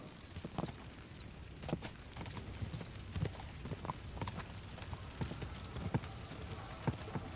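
Steady clip-clop of horse hooves at a brisk trot in the video game Kingdom Come: Deliverance II, close and rhythmic, with faint background ambience.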